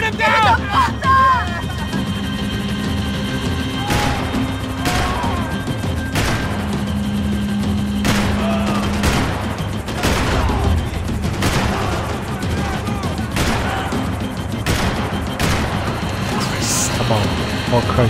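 Rifle gunfire aimed at a helicopter in the video game Max Payne 3: repeated sharp shots and bursts over a droning rotor, with urgent voices talking throughout.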